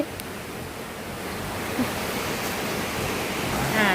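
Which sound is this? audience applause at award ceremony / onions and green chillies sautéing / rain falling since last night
rain falling since last night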